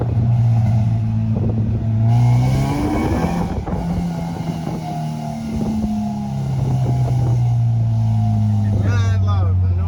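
A brand-new Honda Integra (Teggy) fitted with a front lip and Racelan parts drones loudly from the cabin on a test drive, its engine holding a strong steady tone with a surge near the middle, while people talk over it.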